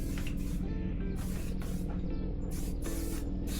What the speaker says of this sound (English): And I just take this and spray.